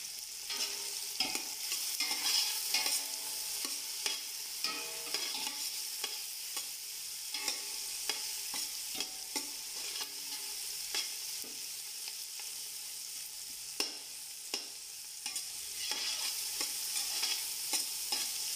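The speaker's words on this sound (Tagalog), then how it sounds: "Bilutuin natin ng konti yung kamatis bago natin ilagay yung ating bagoong alamang." Tomatoes sautéing in a pan for bagoong fried rice, a steady close sizzle throughout with repeated scraping stirs of a spatula against the pan, no talking.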